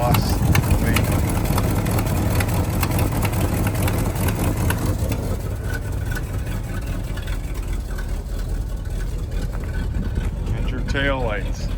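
A 1973 Ford F250 engine runs a little rough, its steady low exhaust drone close and continuous throughout, while someone talks over it.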